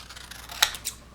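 A pair of scissors snips a sheet of colored paper for a folded leporello booklet, giving two short, crisp cuts close by against a quiet room, with no one speaking.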